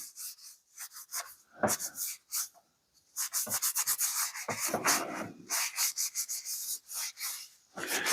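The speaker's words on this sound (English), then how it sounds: "with just a little bit of WD-40 rubbed on it" A Civivi Placoid knife with G10 handle scales being rubbed down with a little WD-40, giving repeated close, dry rubbing and wiping strokes in uneven bursts with short pauses between them.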